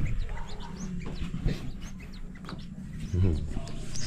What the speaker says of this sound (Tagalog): Ito naman may ibon.